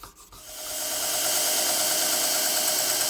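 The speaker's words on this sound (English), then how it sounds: "using a square file, I start cleaning up these shoulders" A square file rasps steadily across the shoulders of a San Francisco Bowie knife's tang, a continuous close, bright scraping that starts after a brief pause and holds at even loudness.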